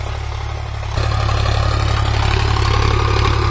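A Sonalika DI 745 power-steering tractor engine working a 9-tine tiller, idling with a deep, steady rumble that grows louder and heavier a moment in, then holds constant.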